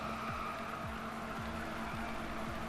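A BMW M3 E30 drifts through a tunnel in Need for Speed 2015, its engine droning steadily while repeated falling gear-shift sweeps cut through about every half second, with tire noise underneath and no talking.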